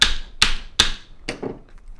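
A tapered dowel is tapped into a leather gun holster with a wax stick, three sharp loud knocks at even spacing followed by two softer taps, close and alone.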